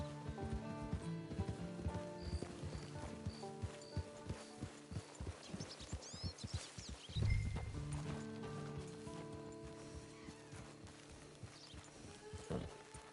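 Horse hooves clip-clop in the Red Dead Online video game, a run of sharp, fairly quick hoof strikes on the ground. They are close and distinct over soft background tones, with a louder thud partway through.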